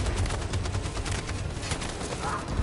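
Sustained automatic gunfire in a Detroit: Become Human battle scene, a dense unbroken roar of rapid bursts and explosive crackle filling the whole stretch at steady loudness.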